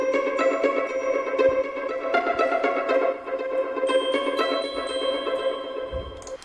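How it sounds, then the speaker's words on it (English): Violin pizzicato melody run through tape-delay effects: bright plucked notes in a lively rhythm, each trailed by faint echoing repeats, moderately loud with no voices. "emphasize parts of the melody in this violin pizzicato,"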